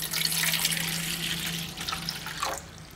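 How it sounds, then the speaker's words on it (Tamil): Water streams steadily into a pot, about 250 ml, a continuous splashing pour that fades and ends near the finish, with no voices. "இதில் ஒரு இரநூத்தம்பது மில்லி தண்ணியை விட்டுக்குங்க"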